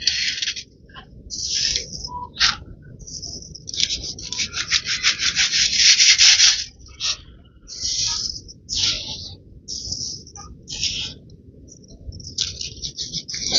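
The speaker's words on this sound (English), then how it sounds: "This much sieving is done." Coarse grits are being sieved by hand, producing irregular bursts of dry, gritty rubbing and shaking, close and moderately loud, with short pauses between strokes.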